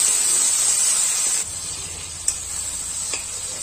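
Chopped tomatoes and three or four green chilies fry in a pan, giving a steady close hiss and sizzle that drops to a softer level partway through, with a small clink or two.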